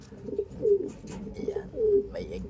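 A pigeon of a racing bloodline coos nearby in soft, throaty, repeated phrases, with several rolling coos over a couple of seconds.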